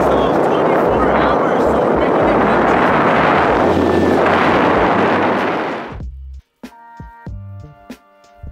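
Strong wind buffets the microphone while someone rides outdoors on a Razor, a loud, roaring rush for about six seconds that cuts off abruptly, followed by brief quieter sounds.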